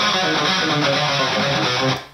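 A sequenced hidden guitar lick, a short burst of dense, distorted electric guitar playing loud and close, cut off abruptly.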